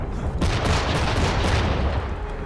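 Bombing explosions in a video game rumble as a dense, continuous low barrage, loud and close, with repeated bursts layered over one another throughout.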